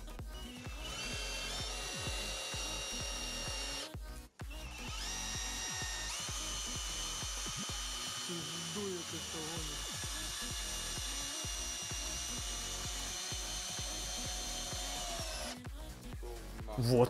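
A DEKO 20V impact screwdriver in drill mode whirs steadily at high speed into wood, a continuous close motor whine with brief stops and restarts.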